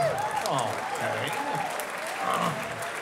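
A comedy club crowd at the Trocadero in Philadelphia breaks into applause, dense steady clapping that fills the whole moment, with a voice talking over it.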